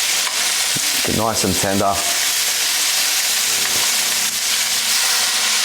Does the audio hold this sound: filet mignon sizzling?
yes